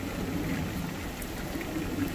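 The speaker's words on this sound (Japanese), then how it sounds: "すごく雨降ってて" Heavy rain pouring during the rainy season, a steady dense hiss and patter with no breaks, fairly faint and heard alone without voices.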